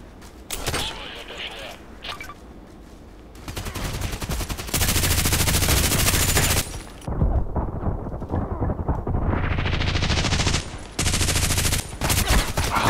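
RPK machine gun fire in Contract Wars, loud broadband bursts of automatic shots in long runs with short gaps between them, close and harsh, with a voice briefly present.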